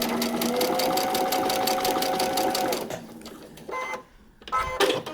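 A sewing machine stitches a quilt block for a paper-pieced block-of-the-month quilt, running loud and steady with a rapid, even needle rhythm, then slowing and stopping in short bursts near the end.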